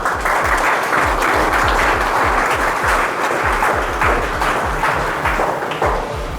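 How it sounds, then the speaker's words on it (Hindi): A room of students clapping together, dense steady applause with individual claps audible, loud and continuous throughout. "आप सबके लिए चाहें तो ताली बजा सकते हैं।"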